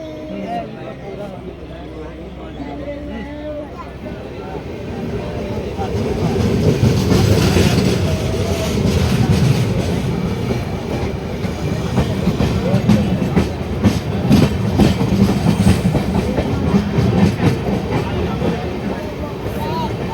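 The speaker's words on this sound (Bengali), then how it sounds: "এখানে একটি স্পেশাল ট্রেন দেখতে পাওয়া যাচ্ছে" A special train for the Kumbh Mela at Prayagraj rumbles past, building from a low approach to a loud, steady clickety-clack of wheels over rail joints with metallic squeals, sustained throughout, with voices in the background.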